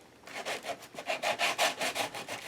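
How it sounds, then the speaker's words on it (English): Rapid back-and-forth scraping of a sanding block over a surface coated with white acrylic paint, a steady rhythmic abrasive rasp, close up and fairly loud. "Bring in my sanding block, knock it down a little bit."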